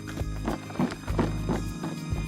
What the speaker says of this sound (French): Voilà les chevaux du Vercors de Barakan, donc forgés par le territoire du Vercors.